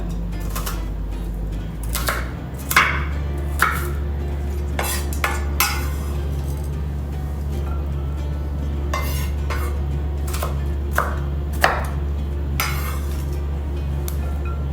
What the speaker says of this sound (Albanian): Qepën e prem në pjesë të vogla, mos të shumë të mëdhaja.